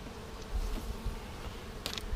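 Honeybees from a package colony drone in a soft, steady buzz around a hive, faint and close, with a few individual bees buzzing louder as they pass near.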